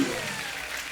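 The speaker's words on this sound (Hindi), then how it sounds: "इस बात के ऊपर तालियां बनती हैं" Studio audience applause on a Hindi TV comedy talk show, a short, dense wash of clapping at steady loudness for about a second, blended with crowd noise.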